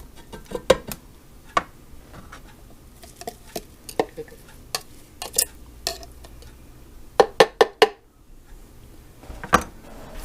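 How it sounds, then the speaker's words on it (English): Chopped potatoes tumble into a Copper Chef pan already holding carrots, giving a run of sharp, close clatters and scrapes from a utensil against the pan, with a brief lull before a final cluster of knocks and no talking. "We're going to add them to the Copper Chef pan with the carrots."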